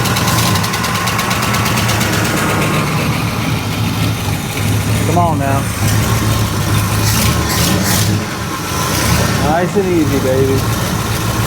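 A 1968 Ford XL V8 runs roughly at idle with a small exhaust leak at the front, a loud, lumpy rumble with uneven pulses and a couple of brief revs, while someone talks over it nearby.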